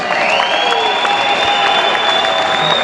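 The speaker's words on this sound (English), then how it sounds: "let's give these 2 warriors one more big round of applause" Audience applause and crowd noise fill a fight venue for two fighters awaiting the official decision, a steady wash of clapping under a loud sustained tone, with no speech.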